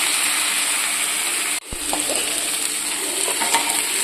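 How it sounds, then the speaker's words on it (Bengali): Potato and pointed gourd curry sautéing in a pan for a Bengali fish-head dish, giving a steady close sizzle with soft stirring scrapes, briefly cut off and then resuming without any talk. "এটা একটুখানি কষানো হোক।"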